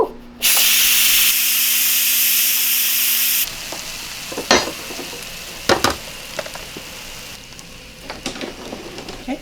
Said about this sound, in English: Instant Pot is done. Now releasing the steam.